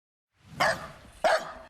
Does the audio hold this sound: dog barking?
yes